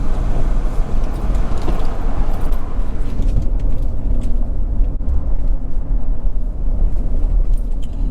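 A lifted truck on new Rough Country Vertex coilovers and BDS upper control arms rolls over bumps, giving a steady, loud low-frequency cabin rumble of road and engine noise throughout with a brief jolt midway.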